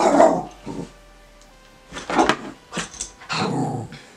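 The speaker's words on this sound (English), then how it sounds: "And my dog barks." A dog in a dog simulator game barks and growls in several short, separated bursts, fairly close and clear, with no talking over it.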